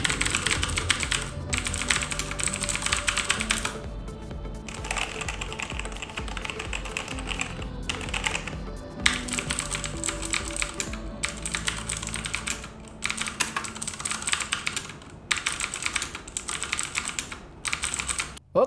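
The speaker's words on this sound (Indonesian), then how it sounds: "Berikut sound test dari Logitech G413 dengan Romer G Key Switch." A Logitech G413 keyboard with Romer-G switches is typed on continuously, giving close, rapid, fairly quiet clacking in bursts with brief pauses between runs of keystrokes.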